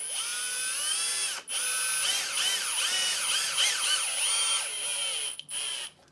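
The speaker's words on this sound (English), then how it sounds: "And then I've been using my drill." A power drill whines steadily at close range during a Ford 555 engine assembly, its pitch rising and falling as it speeds up and slows, with two short pauses.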